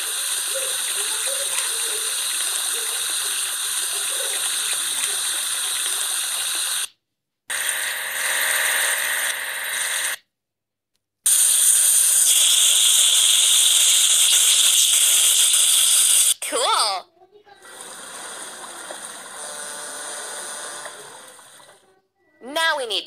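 A vehicle in a kids' puzzle game washed with a loud, steady hissing water spray that plays in long stretches, broken by short silences and a few bright game chimes near the end.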